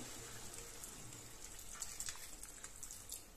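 A little water poured into a pan of peas cooking in masala for a pea and mushroom curry, a short continuous splashing gush with a hiss that rises slightly toward the end.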